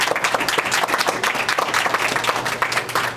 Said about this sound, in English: So just a round of applause for the Eagle Academy Foundation.